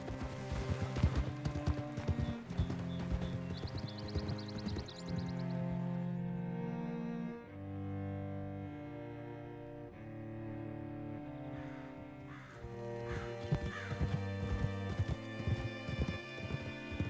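Horse hooves clip-clop steadily in Red Dead Redemption 2 on PC, a moderate rhythmic plod running under a loud sustained music score for the whole stretch.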